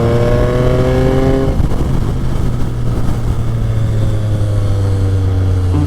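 Yamaha XSR 900 motorcycle exhaust while riding, a loud steady engine drone with harmonic tones that drop as the throttle eases and then swell again near the end, close and continuous with no voices.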